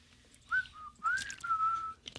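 A person whistles a short phrase of a few clear, sliding notes, close and fairly loud, with brief gaps between them and no talking.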